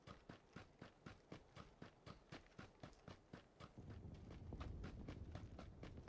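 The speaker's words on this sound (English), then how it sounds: "if you want to hear enemy footsteps like I just did." Steady, evenly paced footsteps from the video game PUBG tap out a regular rhythm of about three steps per second, faint and fairly close, while a low rumble builds up in the background during the second half.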